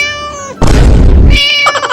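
A cat meows loudly and close, with a drawn-out wail at the start and again near the end, broken in the middle by a sudden loud noisy burst.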